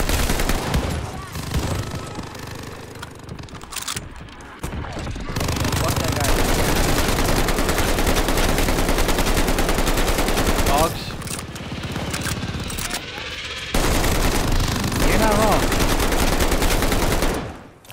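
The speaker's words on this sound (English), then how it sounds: "Submachine gun." Rapid automatic gunfire from a submachine gun in the Call of Duty: Vanguard zombies mode, loud sustained bursts broken by short pauses, with a voice talking over parts of it.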